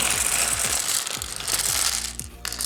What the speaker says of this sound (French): on va tout simplement y fixer nos touches dessus